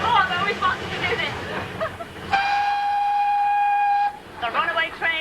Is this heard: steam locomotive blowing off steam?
yes